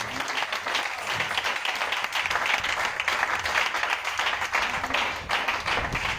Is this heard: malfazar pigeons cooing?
no